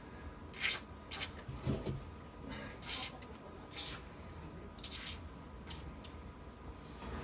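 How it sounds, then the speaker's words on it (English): WD-40 spray lubricant sprayed in several short, sharp hissing bursts onto a frozen kitchen sink strainer nut, the spurts spaced irregularly, close and fairly quiet. "spray up some WD-40 up in there"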